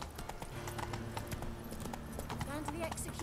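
Rhythmic clip-clop of horse hooves in the video game The Witcher 3: Wild Hunt, under a speaking voice and background music.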